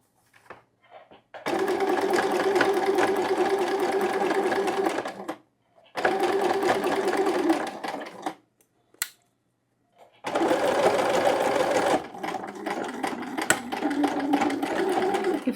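A sewing machine stitches a seam on children's pajamas. It runs in three loud, steady bursts of several seconds each, with short silent pauses between them and no talk.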